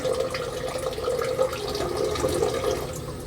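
Liquid potassium poured into the return chamber of a reef aquarium, a steady close splashing trickle blending with the tank's running water throughout.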